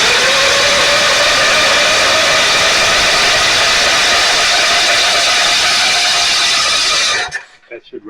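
A Generac 7000 EXL generator engine, primed with carburetor and choke cleaner, cranks and sputters in a loud, steady broadband roar for about seven seconds before cutting off abruptly.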